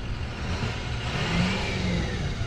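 A Jaguar X-Type engine runs steadily with the hood open, a continuous close mid-range hum with a slight swell in revs partway through, and no voices.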